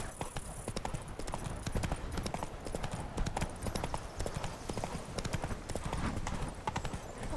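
Roach, Geralt's horse in The Witcher 3, trots with steady clip-clop hoofbeats held close and loud throughout, an occasional snort or whinny mixed into the rhythm.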